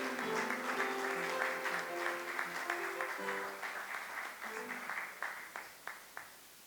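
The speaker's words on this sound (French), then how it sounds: "on acclame le Seigneur" A church congregation claps along in a steady rhythm over music during a worship celebration, the hand claps becoming sharper and more distinct toward the end.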